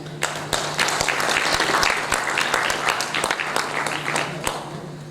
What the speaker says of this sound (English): Let's honor with a clap, with a hearty clap, Mr. Sudhanshu Pandey.